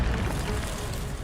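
Incendio fire spell cast in Hogwarts Legacy, a brief, steady whooshing rush of flame with a low rumble and no distinct onset.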